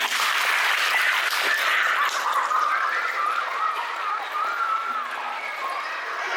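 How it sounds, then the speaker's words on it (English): A school drama-class audience claps their hands together in sustained, dense applause indoors, loud at first and slowly thinning as it continues, with no talk over it. "If you think that the tree should be chopped down and used for firewood, clap your hands"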